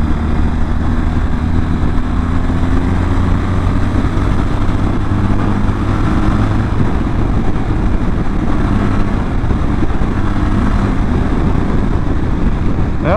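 A 2024 BMW R1300GS Trophy motorcycle cruises on the highway under cruise control, its engine droning steadily with heavy wind rush buffeting the rider, loud and continuous throughout.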